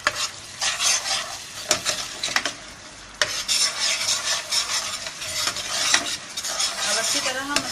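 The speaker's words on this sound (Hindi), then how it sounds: "अब अच्छी तरह हम मसाले को अपने भुनाई कर लेंगे तो हमारी ग्रेवी तैयार हो जाएगी" Spiced masala for besan kofta gravy frying in a pan while a spoon stirs it, giving a steady sizzle with repeated scraping strokes against the metal, close and fairly loud with no talking.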